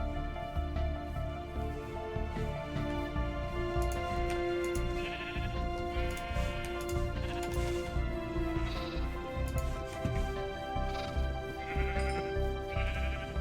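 Sheep in the video game Minecraft bleating repeatedly, several overlapping baas from adults and lambs in an irregular, close, fairly clear stream, with no talk.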